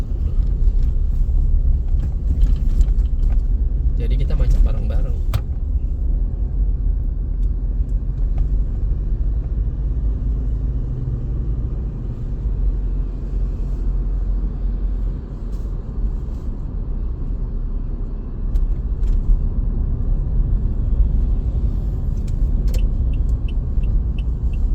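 Road traffic in a Jakarta jam: a steady low rumble of idling and creeping cars and engines, continuous and moderately loud from nearby, with no speech.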